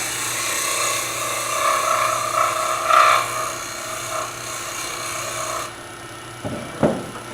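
Wood lathe making a light cleanup cut on a turned bowl lid near the tenon: a steady whirring hum with a thin scraping, rasping hiss from the tool on the spinning wood, easing off near the end with a couple of brief knocks.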